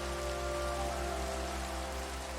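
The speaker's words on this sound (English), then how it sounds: "that should get the rain out of the way too" Rain falling in the Minecraft video game, a continuous even hiss of drops with no pauses and no voices over it.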